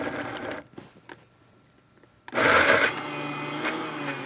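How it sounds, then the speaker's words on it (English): An electric blender kicks on partway through and purees butternut squash soup with a loud, steady whir after a quiet stretch of faint kitchen clatter. "put it in a blender and carefully puree the soup"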